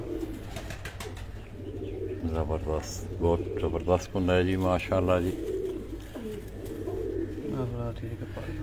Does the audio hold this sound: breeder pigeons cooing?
yes